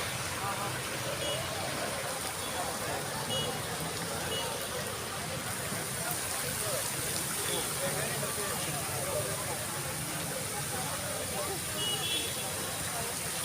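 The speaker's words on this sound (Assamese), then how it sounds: "সুন্দৰকৈ পানী পৰি আছে" Evening rain pours steadily on a Guwahati railway platform, a dense continuous hiss of water filling the scene with a low murmur of voices beneath it.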